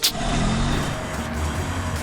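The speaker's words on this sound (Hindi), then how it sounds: "उसकी गाड़ी आई।" A car pulling up, with a steady low engine rumble and road noise holding at moderate level for about two seconds after a short sharp onset.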